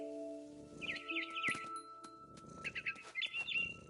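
Bird chirping in the game What Remains of Edith Finch, bright trilling tweets in two bursts over a soft ambient tone and faint rustling, close and clear.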